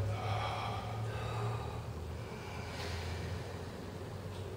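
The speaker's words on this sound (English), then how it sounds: "the Buddha style breath." A Buddhist-style breathing method demonstrated in a breathing lesson: steady, forceful breaths with a rushing, airy texture and a low hum beneath, continuous and close for several seconds.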